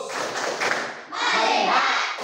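Indonesian schoolchildren in a classroom do a rhythmic 'tepuk fokus' clap chant, with quick hand claps close by and young voices chanting along.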